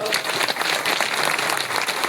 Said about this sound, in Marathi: आपण सर्वांनी टाळ्या वाजवून खरं तर त्यांचं स्वागत करायला हवं